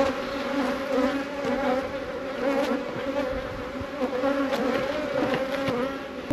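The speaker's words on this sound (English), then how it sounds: "Bees are attacking my camera." Honey bees buzz around an open beehive on a Yorkshire farm, a dense, continuous drone close to the microphone with individual bees whizzing past.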